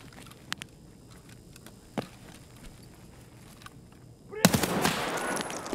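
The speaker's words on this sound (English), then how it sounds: "that was Tajilla shooting" Another player's rifle fire in an online shooter: a few sharp, isolated shots early on, then a loud close burst of rapid gunfire near the end.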